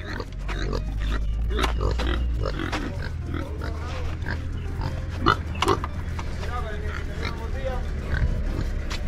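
A pig grunts and snorts repeatedly at close range in short bursts, heard under someone speaking, with a low steady rumble in the background.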